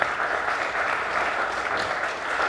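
Steady applause from an audience at a comedy talk event in New York, a dense, even roar of many hands clapping throughout, close and sustained without talk over it.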